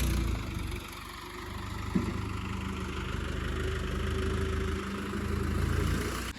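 A tractor engine idles on a road in light rain, a steady low rumble holding fairly close and even, with a faint rise toward the end and no voices.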